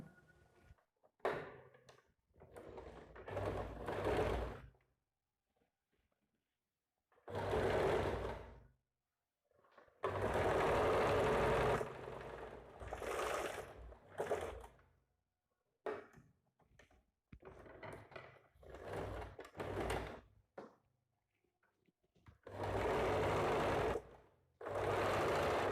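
Bursts of a sewing machine stitching a coat collar onto a blouse, several runs of rapid mechanical whirring separated by pauses and quiet handling of fabric, close by with no talking.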